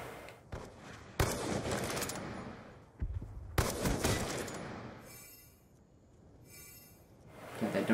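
Bursts of gunfire in a first-person shooter match, loud clustered volleys separated by short gaps, with quieter stretches and faint in-game chatter between them.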